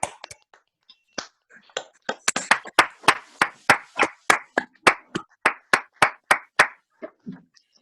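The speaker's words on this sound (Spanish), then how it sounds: "¿Les damos un aplauso también a los que nos han expuesto?" An audience at a closing event for a creative projects gathering claps, starting with a few scattered claps that grow into steady, rhythmic applause of sharp, evenly spaced beats. It stays fairly close and then trails off at the end.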